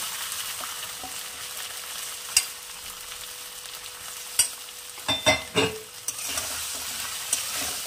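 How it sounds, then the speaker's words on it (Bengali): Spice paste with pointed gourd and shrimp sizzles in a pan under a steady hiss, with a few sharp spoon knocks and then a quick cluster of scraping stirs near the end, close and without speech. "মশলাটা একটু নাড়াচাড়া করার পর আমি পটল আর চিংড়ি দিয়ে মাখানো এটা দিয়ে দেবো।"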